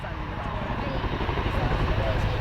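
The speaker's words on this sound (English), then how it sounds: "demonstrate the unique ability of a helicopter to fly sideways" A steady, loud rotor-and-engine roar fills the clip continuously as a helicopter flies sideways close past the crowd line at the RAF Cosford air show, with no gaps or breaks.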